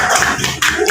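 Children in a classroom clap their hands in a brief, loud, dense burst of overlapping claps.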